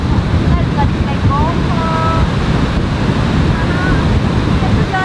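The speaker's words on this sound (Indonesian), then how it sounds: "Terus anginnya kencang dan ombaknya tuh gede banget tuh." Big ocean waves and strong wind at a beach, a loud continuous roar of surf mixed with heavy wind buffeting close to the microphone, with faint voices in the background.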